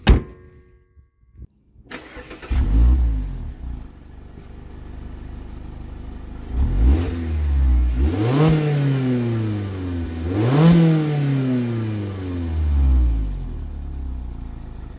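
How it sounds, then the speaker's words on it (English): A 2023 Mazda MX-5 GT engine cranks and catches after a quiet pause, then rises into a loud, close idle broken by several sharp revs that climb and fall back, with no talking. "Let's start this baby up and go for a little ride."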